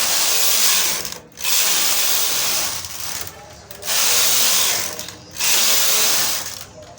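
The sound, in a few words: knitting machine knitting rows of a bucket hat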